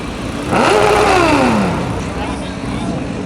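A motorcycle with an open exhaust accelerates hard past traffic, a loud rising then falling engine howl sweeping by up close for about a second and a half before fading into road noise.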